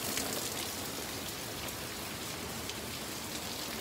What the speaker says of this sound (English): Over here, it's raining so hard.